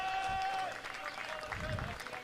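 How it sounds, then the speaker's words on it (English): Applause from cricket supporters during a T20 match in Alicante, fairly faint and distant, ripples under a commentator's talk, with a steady tone and crowd murmur mixed in. "And just listen to the applause from Sporting Alphas."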